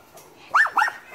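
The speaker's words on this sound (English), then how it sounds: "They're barking at him." Dogs give two quick, sharp barks in the middle of a quiet indoor moment, close by and loud against faint background noise.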